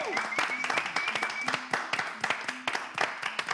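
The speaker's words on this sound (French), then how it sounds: "Est-ce qu'on peut applaudir?" An audience applauds after a legendary song, with scattered distinct claps forming a moderate round of applause while voices and a tonal sound carry over it.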